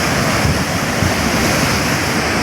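Ocean waves crash and surge steadily against the rocky Rock Garden shore on the Konkan coast, with a loud, continuous roar mixed with wind noise on the microphone.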